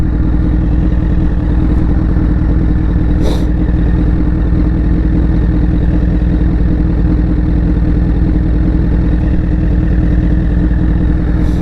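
A motorcycle idling in neutral in a parking lot, with a loud, steady, close engine rumble and a fast even putter throughout, and one brief click partway through.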